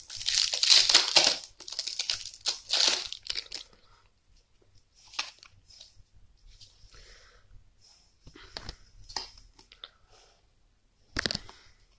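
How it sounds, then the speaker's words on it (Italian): A sticker pack wrapper is torn and crinkled open close by, with loud crackling bursts at first, then scattered softer rustles and a final sharp crinkle. "Apriamo il secondo pacchetto."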